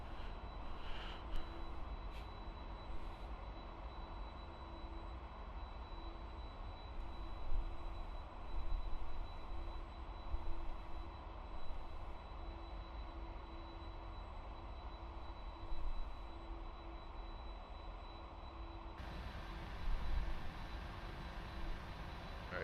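The jet engines of a Boeing 747-400F in the Prepar3D flight simulator produce a steady, low, distant drone with a faint high whine, continuous and unbroken, with no voices.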